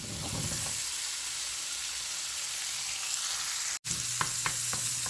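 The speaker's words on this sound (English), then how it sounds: "Just saute the onions a while till they get clarified" Onions sizzle steadily in melted butter in a pan, a continuous bright frying hiss with a few soft stirring taps near the end.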